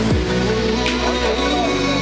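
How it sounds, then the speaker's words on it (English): A wrestling champion's entrance music plays loudly through the arena at a wrestling show, sustained tones with a dropping swoop near the start and the music continuing steadily. "There you hear the music of the champion"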